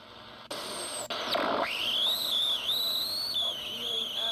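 A steady high-pitched whistle tone rides on a shortwave radio signal heard through a portable receiver, starting after a short burst of static and holding loud and continuous, with slight wavers in pitch.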